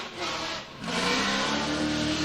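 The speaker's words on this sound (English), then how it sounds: "you can hear him clutch kick that thing in that transition into inside clip 3" Formula Drift car on track, engine revving hard with a brief dip then a surge as the clutch is kicked mid-transition, loud and close with no talk.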